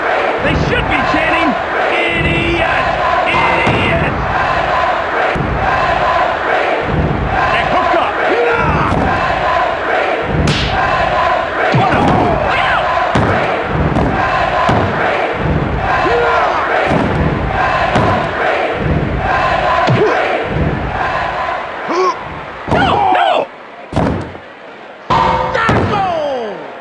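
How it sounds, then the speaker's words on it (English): A WWF Attitude-era wrestling arena crowd roars and chants on its feet, loud and sustained with rhythmic surges and slams, while a commentator talks over it. "Check out this crowd. They're on their feet. They should be chanting."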